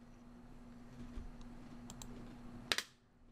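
A single sharp mouse click on the plus button of the Jaxx cryptocurrency wallet, heard close and alone over a faint steady electrical hum.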